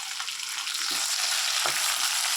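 Curry leaves fry in hot oil for a taro curry, giving a steady, close, bright sizzle throughout with a couple of soft low thumps from stirring; no one speaks.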